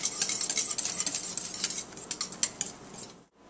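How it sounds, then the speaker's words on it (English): Layali Lubnan dessert mixture with rose water being whisked in a bowl or pot, a brisk run of rapid metallic scrapes and clicks that slows toward the end and then stops abruptly. "Just whisk it in."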